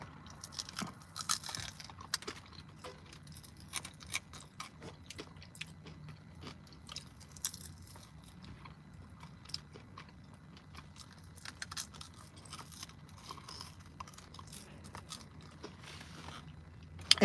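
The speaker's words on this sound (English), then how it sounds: "This is low-key my favorite part of the chicken when it's crunchy." Crunchy Popeyes fried chicken wing tip being chewed close up, with repeated crisp bites and mouthy crunches scattered through the stretch, no talking.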